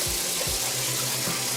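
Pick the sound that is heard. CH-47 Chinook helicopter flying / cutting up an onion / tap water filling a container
tap water filling a container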